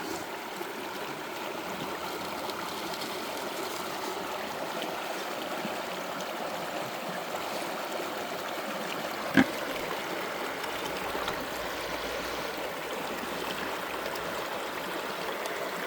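Water flows steadily into a gold sluice, a constant rushing and trickling wash near and moderately loud, broken once by a brief sharp knock.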